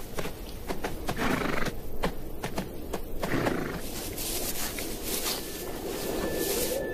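Horses moving across dry grassland in drought, with a run of hoof clops at first, then a long whinny and snorting over a steady outdoor background.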